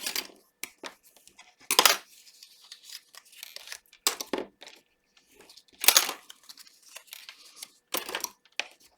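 Paper for a scrapbook pop-up album is scored along its fold lines with a tool, producing separate bursts of scraping and rasping strokes close up, with quiet gaps between them and no talking.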